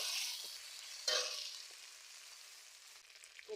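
Ginger and cumin spice paste, with green chillies, frying in a hot pan for a village-style prawn, aubergine and potato curry; a steady close sizzle with a sharp burst as more goes in, then fading.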